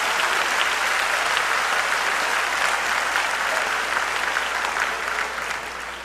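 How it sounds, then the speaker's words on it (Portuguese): A church congregation claps loudly and steadily for the Lord during a bilingual service, a dense, continuous wash of applause that fills the hall and fades slightly at the end. "Give the Lord a big hand clap."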